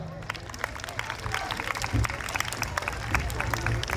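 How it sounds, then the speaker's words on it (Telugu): An audience at a college Christmas event claps for a skit team, dense applause with crowd murmur throughout, fairly close, with a voice talking over it. "అందరూ కలిసి స్కిట్ టీం కోసం చప్పట్లు కొడదాం"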